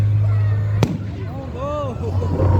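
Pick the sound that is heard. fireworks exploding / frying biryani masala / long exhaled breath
fireworks exploding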